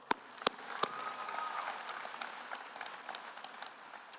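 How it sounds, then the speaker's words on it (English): At a Victor Valley College 2024 commencement ceremony, a few sharp, separate claps open into soft, spread-out applause from a large audience, heard at a distance and fairly faint. "Give yourself an applause."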